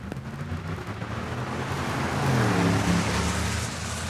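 Drag racing cars run an eighth-mile pass at Saskatchewan International Raceway, a steady engine roar that builds and swells in the middle before easing off, heard from a distance.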